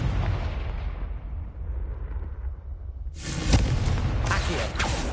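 A Confringo blasting spell in the Hogwarts Legacy wizarding game, a fading rumble followed by a sudden crackling blast with sharp pops, loud and close, the bang trailing into sizzling debris.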